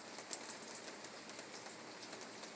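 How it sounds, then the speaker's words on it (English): Rain falls steadily in the evening, a soft, even patter with a few louder drops near the start and no voices. "let's get back to the raining, shall we? Because once again, like I said, with this type of rain here"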